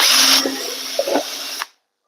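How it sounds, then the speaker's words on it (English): A close power drill spins at full speed, briefly strained as it bites into material, then stops abruptly, leaving silence. "And then I'm going to drill on the sides here."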